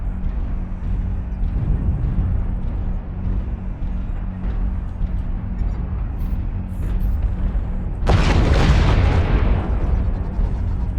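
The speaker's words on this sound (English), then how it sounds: "Target acquired. Artillery strike activated." Artillery strike explosions in the MechWarrior Online battle game, a steady rumbling barrage of booms that swells into a louder, brighter blast burst near the end, with no talk.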